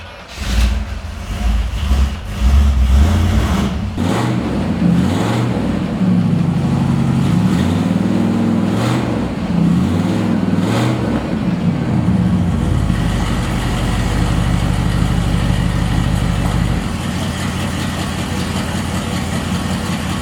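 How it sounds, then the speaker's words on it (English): A 1969 Buick GS400 convertible fires up and settles into a loud, steady idle, with a few blips of throttle early on and a deep, even rumble throughout, close to the car with no talking. "How about I start it for you and you'll see why the Buick sounded so good."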